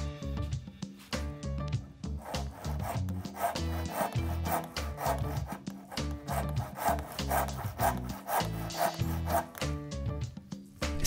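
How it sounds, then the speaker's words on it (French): Hand saw cutting a wooden tenon in rapid back-and-forth strokes, a rhythmic rasping of the blade through wood, close and continuous with no talk. "Commencez par scier les côtés gauche et droit avec la scie à main en oblique, puis sciez les 2 côtés de billet l'un vers l'autre."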